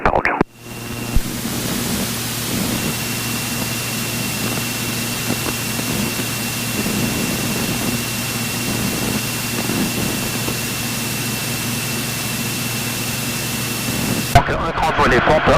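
A small light aircraft's engine drones steadily through the takeoff roll, a continuous broadband roar with a low tonal hum, heard from inside the cockpit with brief clicks and a few faint noises over it.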